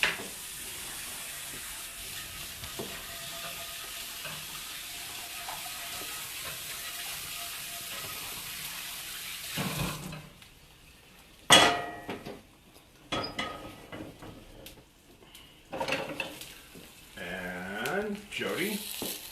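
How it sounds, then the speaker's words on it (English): Frying pan being washed in a kitchen sink beside cooking eggs: steady broadband running-water rush for about ten seconds, then quieter scattered scrubbing clatter, with bursts of nearby sound toward the end. "while the eggs are cooking, the last thing I can do is clean my pan"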